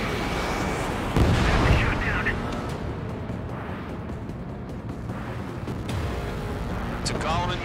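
Missile launch and explosions in a flight combat game: a booming blast rises near the start, then rumbling impacts and engine roar follow, with radio chatter and voices running over the top throughout.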